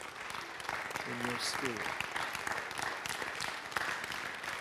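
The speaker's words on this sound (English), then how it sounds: "Get some clapping in your hands right now." A church congregation claps hands in a dense, steady burst of applause while a preacher speaks over it.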